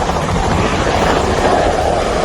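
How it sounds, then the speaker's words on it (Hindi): A helicopter attempting to land, a loud, dense, continuous rotor and engine roar close to the microphone with no voices. "पायलट ने हेलीकॉप्टर को जमीन पर लैंड कराने की जैसी ही कोशिश की"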